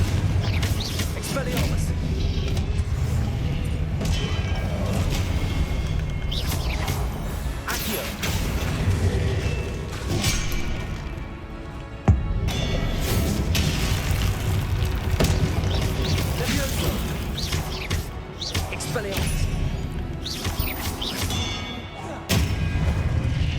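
Confringo blasting spell explosions in the video game Hogwarts Legacy, repeated thuds and booming blasts over a busy combat background, with a voice talking through it.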